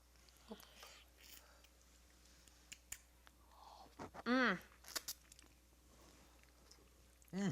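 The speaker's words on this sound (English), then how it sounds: "The crunch from the nuts really combines with the tomato flavor." Someone chews pasta with a crunchy nut and tomato sauce, giving soft close-up crunches and mouth sounds, faint and intermittent, with brief speech.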